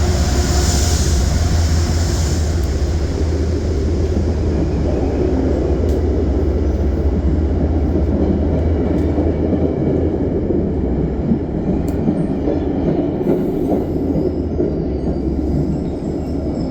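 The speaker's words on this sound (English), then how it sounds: "The next train arriving at Poughkeepsie would be a Metro North train coming from Grand Central." A Metro North train coming from Grand Central arrives at Poughkeepsie station, a loud, continuous low rumble of rolling cars and rail noise that holds steady throughout, with faint high squeals and no talking.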